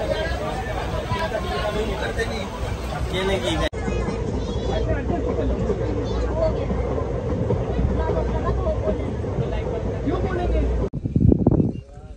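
Steady low rumble from inside a moving train bound for Dhule fills the clip, with a busy murmur of voices over it and a brief louder jolt near the end.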